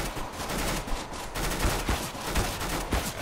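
Rifle and automatic fire rattle through a close-quarters firefight in Counter-Strike on the Mirage map, bursts of shots crackling in quick clusters with sharp individual cracks standing out, loud and continuous, with no talk over them.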